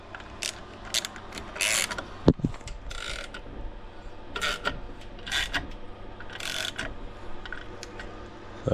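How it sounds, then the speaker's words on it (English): Bolts being tightened around a ported Hellcat supercharger during a rebuild: a ratchet wrench clicks in short rasping bursts with pauses between, plus one sharp metallic clank partway through, close and clear with no talking. "now I'm gonna go all the way around it and slowly sink these bolts in"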